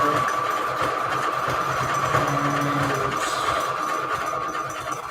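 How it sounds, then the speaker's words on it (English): A sewing machine runs steadily while stitching a patchwork junk journal cover, giving a loud, continuous mechanical whir with a faint hum and no pauses. "Now that my sewing machine is working"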